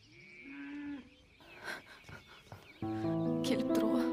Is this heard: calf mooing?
yes